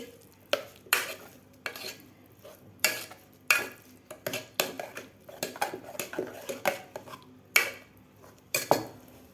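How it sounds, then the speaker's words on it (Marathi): A metal ladle knocks and scrapes rhythmically against a pot while mashing cooked moong dal, a steady series of clinks and thuds with no talking. "आपल्याला पळीनं डाळ घोटून घ्यायची आहे थोडीशी"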